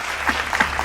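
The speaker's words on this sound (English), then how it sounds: "A big round of applause for these amazing artists, all of them on stage at the same time." A short burst of audience clapping at an arts awards ceremony, with winners on stage: a steady patter of many hands, brief and unbroken.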